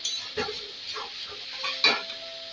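Momo filling fries in a pan while a spatula stirs it, giving several close scraping and clinking strokes over a soft steady sizzle.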